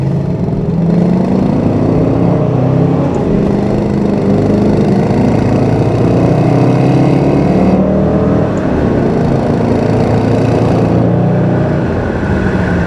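A 2008 Ford Mustang Bullitt with a standard transmission pulls hard under acceleration on a test drive, its loud engine revving and rising through the gears in a sustained roar from inside the car.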